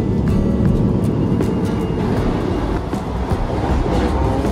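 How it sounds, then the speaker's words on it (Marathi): Vande Bharat Express, a semi-high-speed Indian train rated for 160 km/h, on the Mumbai to Shirdi route, giving a loud, continuous low rumble with rattling and rushing noise throughout, with no voices. "वंदे भारत ही एक सेमी हाय स्पीड ट्रेन आहे, जी की 160 किलोमीटर प्रति घंट्याच्या स्पीडने जाऊ शकते."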